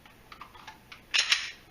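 A pistol dry-fired on snap caps during a reload drill, a few faint ticks of handling followed by two sharp, close metallic clicks.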